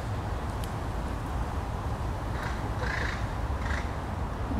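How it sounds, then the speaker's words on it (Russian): A few crow caws ring out at a distance over a steady low outdoor rumble, spaced irregularly in the second half. "Это ворона каркает, а белки внимательно слушают"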